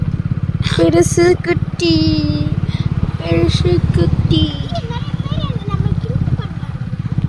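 A motorcycle ridden along the road to Alagar Kovil temple, its engine chugging steadily and close by while the riders chat over it.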